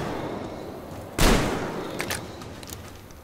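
A single loud gunshot from a Metro Exodus firefight rings out close by, followed by a decaying echo and a couple of faint distant cracks.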